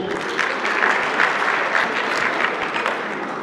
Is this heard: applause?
yes